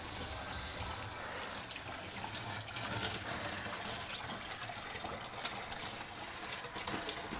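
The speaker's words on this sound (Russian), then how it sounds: "И вот здесь вот источник, где можно набрать воду." Water from a spring source beside a church near Novorossiysk runs and trickles steadily, a continuous broadband splashing flow heard up close with no voices over it.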